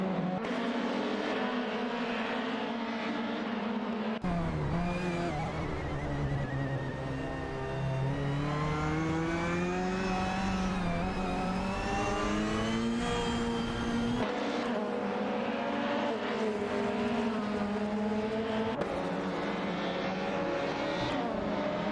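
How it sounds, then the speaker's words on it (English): Race cars speed through an AI racing video game, engines droning and rising in pitch as they accelerate, sustained and loud with abrupt cuts between camera views and no talking. "Racing car dashing away."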